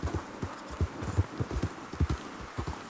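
Horse hooves clopping at a walk in the video game Red Dead Redemption 2, a steady uneven rhythm of soft, close thuds heard alone.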